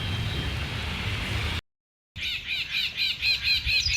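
A myna bird squawks while bathing, with harsh rhythmic squeals close by over a steady hiss of splashing water, broken by a brief silence partway through.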